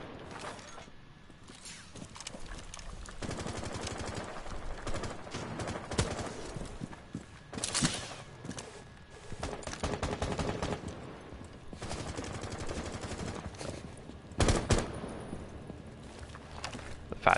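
Rapid gunfire from Rainbow Six Siege during a competitive esports match: bursts of automatic and single shots crack and echo through the whole stretch, some heavy and close, others more distant.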